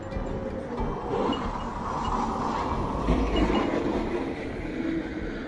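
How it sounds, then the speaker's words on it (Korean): A tram rolls past on a Nagasaki city street, a steady low rumble of wheels and motor with traffic-like wash, continuous and fairly close throughout with no talk. "전동차가 이리로 지나다니네."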